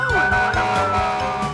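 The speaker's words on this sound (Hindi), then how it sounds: "ओह ये तो मैक्स द मॉन्स्टर ट्रक है।" Max, a cartoon monster truck, revs and skids its tires, with a rising and falling engine whine and tire squeal running loudly through the moment, alone without talk.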